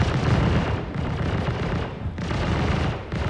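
Dense, rapid gunfire from weapons in the video game Star Citizen, loud and continuous with brief dips, like several automatic guns firing at once.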